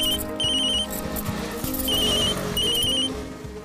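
A phone ringtone rings in repeated bursts of high, pulsing electronic tones over a dense music bed, with no voices during the ringing.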